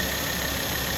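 A Volvo C30 engine runs steadily at idle, fitted with a temporary repair on a cracked aluminum oil pan, giving a close, even mechanical hum with no talk.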